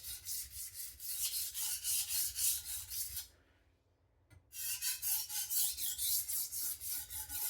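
A knife blade is drawn over an Atoma diamond sharpening plate in quick, even rasping strokes. The strokes stop for about a second midway, then the same close, rhythmic scraping resumes with no voices.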